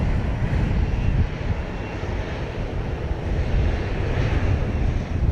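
A Southwest Airlines airplane at Dallas Love Field produces a loud, steady jet engine roar with broad rushing noise and some wind buffeting, sustained throughout with no speech.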